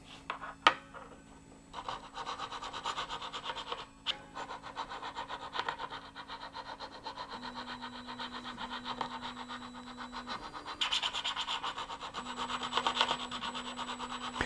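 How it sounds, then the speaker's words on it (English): Rhythmic rasping strokes of a file grinding down a high spot on stainless steel guitar frets, close and fairly quiet, with a faint steady hum underneath. "Now these are stainless steel frets, so they probably take a little bit of extra elbow grease to get that high spot ground down level"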